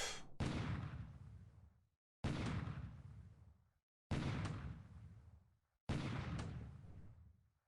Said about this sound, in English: A little day bombardment with what we have left.